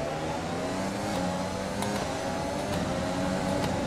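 An F1 car engine in the racing video game F1 2020 at Circuit Gilles Villeneuve holds a steady high-revving drone with layered whine, loud and continuous, with faint clicks scattered over it.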